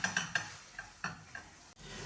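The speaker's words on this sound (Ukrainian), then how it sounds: "І перевертаємо цей млинець і з іншого боку смажимо." A pan sizzles with soft frying hiss as a pancake is flipped and fried, a utensil scraping and tapping against it several times, ending in a brief silence then more sizzling.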